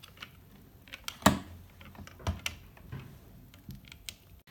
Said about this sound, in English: now install the screws to fix the hard drive and the cover